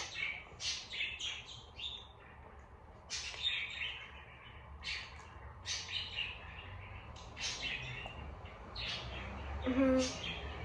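Bird chirps repeat throughout, bright short tweets at a steady pace over a faint background murmur, with a brief whistle near the end.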